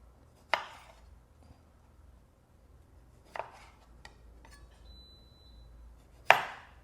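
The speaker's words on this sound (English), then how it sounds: "let's get to chopping some of the veggies and tomatoes" A knife chops vegetables and tomatoes on a board in three sharp, close knocks spaced a few seconds apart, with faint lighter taps between them in an otherwise quiet kitchen.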